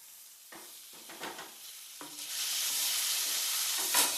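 Tomatoes tipped into a hot pan of Kerala chicken curry base over full flame, bursting into a loud, broad sizzle that swells and holds steady after a few scattered clatters of stirring, with no voices.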